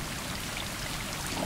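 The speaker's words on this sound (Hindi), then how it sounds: "बहुत तेज बारिश होते हुए" Heavy rain in the video game Stray, a dense, steady hiss of falling water that stays loud and even throughout the short stretch.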